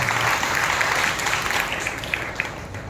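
A church congregation at Sunday worship claps loudly together, a dense, sustained wash of applause that fills the whole moment.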